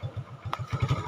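Motorcycle engine idling as a rider climbs on: a close, steady low throb with a quick mechanical clatter partway through, over about a second.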